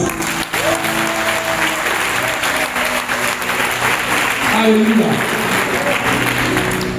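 A congregation at a charismatic prayer meeting applauds in a steady, sustained wash of clapping, with a voice speaking and calling out over it.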